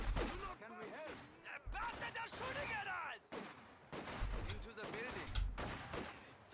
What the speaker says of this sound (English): Just gonna open fire a little bit.